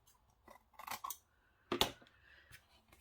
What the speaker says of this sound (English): So just trim that a little bit because it's just a little bit